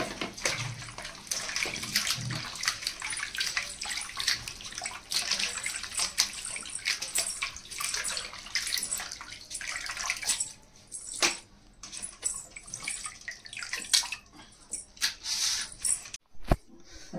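Pork meat being washed in water for a curry, with steady splashing, sloshing and running-water sounds throughout, a few sharper clatters near the end.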